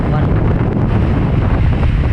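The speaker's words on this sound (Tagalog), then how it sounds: "Nagsisimula na yung alon" Loud, steady roar of wind and surging water, like waves churning around a boat, with heavy low rumble and wind buffeting the microphone, as waves build during the southwest monsoon (habagat) with strong wind.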